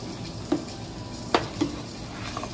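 Poblano chile cream sauce being stirred in a pan, with soft scraping and a few distinct utensil clicks against the pan over a low simmering hiss, close and quiet with no voices.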